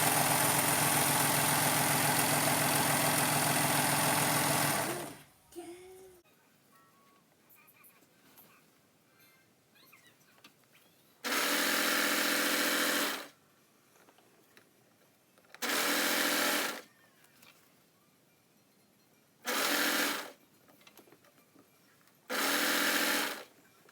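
A sewing machine stitches fabric for a hidden-zipper infinity scarf: one long loud run, then after a quiet gap several shorter bursts of whirring, close up, with no talking.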